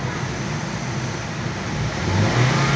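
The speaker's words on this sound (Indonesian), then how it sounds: "Oke ya, kita gas di RPM 3000." A 2023 Daihatsu Sigra Type R in original condition idles with a steady engine hum, then its revs rise and swell louder near the end as the throttle opens toward 3000 RPM.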